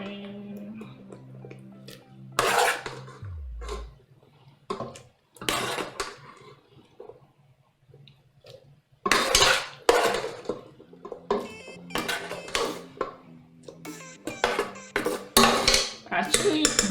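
Chopped vegetables for a vegan mac and cheese are tipped and dropped into a blender jug, giving a series of irregular clatters and knocks against the container, some loud and close, with quieter gaps between.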